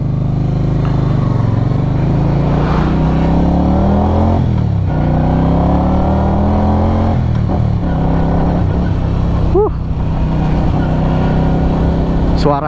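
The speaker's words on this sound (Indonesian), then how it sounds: "Suaranya untuk knalpot standar ini udah enak banget loh." Keeway V250Fi 2022 motorcycle with its standard exhaust pulls away in first gear, its close, steady engine note climbing in pitch through several rising sweeps as it accelerates.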